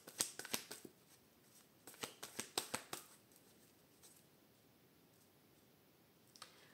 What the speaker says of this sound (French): Allez, une petite coupe avec le tarot.